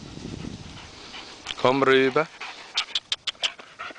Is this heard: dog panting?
yes